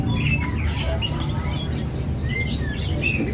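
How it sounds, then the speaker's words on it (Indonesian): A caged songbird at a bird kiosk gives a few short, high chirps and whistles over a constant background of market noise. "Ini burung juga jinak nih."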